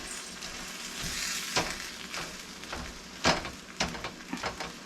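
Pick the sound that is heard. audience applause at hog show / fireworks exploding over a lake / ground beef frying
ground beef frying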